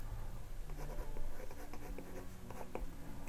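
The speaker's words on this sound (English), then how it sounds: "I can do my handwriting here" A pencil stylus writing by hand on an iPad screen in a quick-note app, giving soft, continuous scratchy tapping strokes close up, with no talking.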